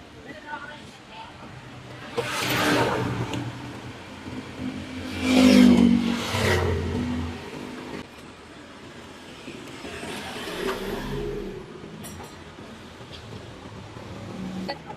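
A car engine revs in two swelling bursts, rising and falling, with quieter engine noise between, while someone talks over it.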